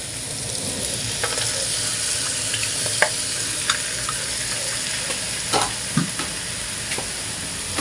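Pork for Kapampangan kilayin frying with fish sauce and cracked pepper, stirred in a pan: steady broadband sizzle throughout with scattered scraping clicks of the utensil, close and fairly loud, no talking.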